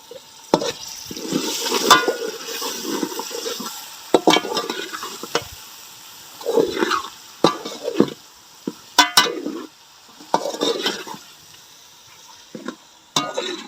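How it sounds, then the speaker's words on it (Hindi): Chicken pieces fry in a spiced masala in a pot for pulao. Loud, close bursts of spoon scraping and stirring come in irregular waves over a hissing sizzle, with short quieter pauses between strokes. "चिकन को थोड़ी देर भूनेंगे।"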